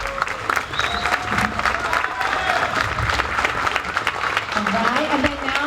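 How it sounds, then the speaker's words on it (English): Audience applause for a school orchestra at a fall concert, steady dense clapping throughout with crowd noise and a few voices calling out over it. "Rayburn Orchestra stand, get your applause,"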